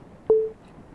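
A phone in the video game Love, Sam gives one short electronic ringing tone, clear and isolated against near silence.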